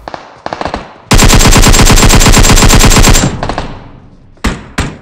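Rapid automatic gunfire from PUBG Mobile: a few scattered shots, then a sustained loud burst of about two seconds, followed by trailing shots and two more short bursts, with no talk.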